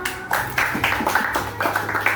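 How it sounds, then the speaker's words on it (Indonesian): A small audience claps for Malika after her poem during a practical exam class session: light, scattered handclaps in a loose steady rhythm, close and fairly soft, with no voices. "Beri tepuk tangan Malika."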